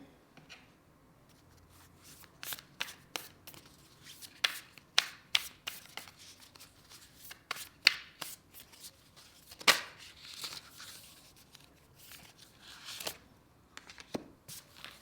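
Tarot oracle cards being shuffled and handled, soft irregular riffles and taps, quiet and close, with no talking.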